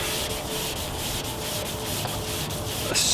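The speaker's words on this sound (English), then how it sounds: "Sanding is an oddly mindless task" Sandpaper wet sanding a car's paint job gives a close, steady rubbing scrape in even back-and-forth strokes, continuous for a few seconds with a brighter rasp at the end.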